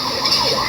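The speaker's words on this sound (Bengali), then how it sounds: "পুলিশের গাড়ি আইয়ে" A police car siren wails steadily up close, a continuous loud tone that holds through the whole moment with no pause.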